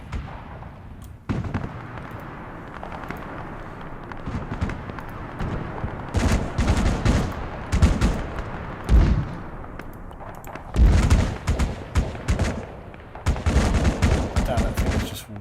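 Artillery fire pounds position markers in Arma 3 on the Tanoa map, starting with a long roll of gunfire, then bursts of loud, rapid, crackling impacts and blasts that cluster in several intense volleys separated by short lulls.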